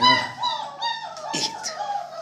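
Pet dog whimpering and whining near mealtime, a few high, wavering whines and short yips at close range, with a brief soft voice in between.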